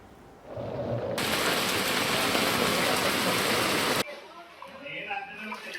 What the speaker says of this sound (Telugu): మధ్యాహ్నం నుంచి సడన్ గా భారీ వర్షం కురుస్తోంది